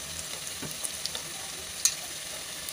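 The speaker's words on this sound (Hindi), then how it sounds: "प्याज के पकोड़े हमारे माशाल्लाह देखें ब्राउन होना शुरू हो चुके हैं।" Onion pakoras deep fry in hot oil, a soft continuous bubbling sizzle with scattered small pops and one sharper clink, fairly quiet and without talk.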